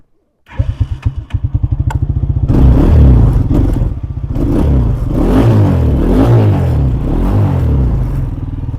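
A quad bike engine sputters to life and then revs and roars loudly up close with a rough, throbbing note while being ridden.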